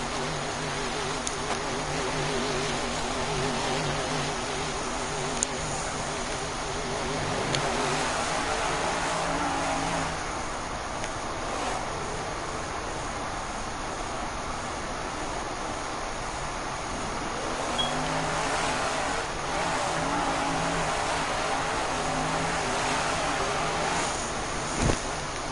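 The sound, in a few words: stunt truck Willman engine in Monster's Revenge video game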